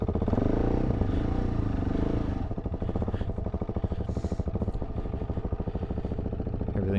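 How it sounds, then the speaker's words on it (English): Motorcycle engine running steadily right after starting up, a loud close mid-pitched idle with a rapid, even pulse and some mechanical clatter, no talk. "Yep, bike started up fine."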